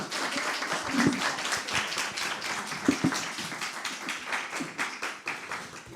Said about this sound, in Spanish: Démosle un aplauso a Mariano Llinás.